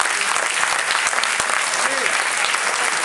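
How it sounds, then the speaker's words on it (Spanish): A crowd at a campaign closing rally applauds steadily in dense continuous clapping, with faint voices mixed in beneath. "Un aplauso."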